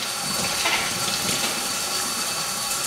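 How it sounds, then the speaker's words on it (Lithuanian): Canned beans are rinsed under running tap water, a steady, close, full-bodied rush of flowing water that continues without a break. "Todėl geriau jas praplauti vandenį."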